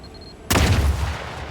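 A single loud gunshot blast in The Outer Worlds 2 bursts in suddenly after a quiet moment and is followed by a rumbling, echoing tail.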